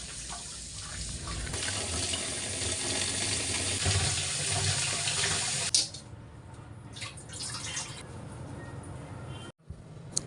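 Bottle gourd greens are rinsed leaf by leaf under a running tap, a steady splashing stream for several seconds, then softer handling and drips as the flow stops.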